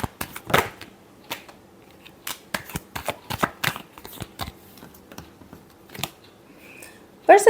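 Tarot cards being shuffled by hand, a series of quick papery riffles and taps at close range with soft gaps between, ending in a louder burst.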